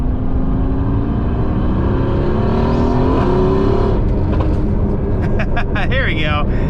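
A widebody Mercedes-AMG with a repaired boost leak, big intercoolers and carbon fiber intakes accelerates hard, its engine rising loudly and steadily up close, with voices talking over it near the end.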